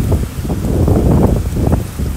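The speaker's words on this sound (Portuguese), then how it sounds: "Só que tá ventando muito." Strong wind at Cotovelo beach in Natal, Brazil buffets the microphone in a constant low roar, with gusts swelling and fading throughout.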